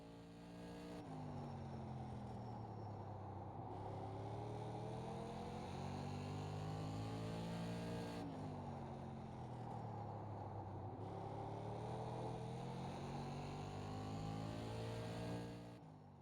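SK Modified race car lapping Charlotte in iRacing, a continuous engine drone that rises and falls in pitch through the corners, with one dip as it lifts on entry and winds back up, steady and alone.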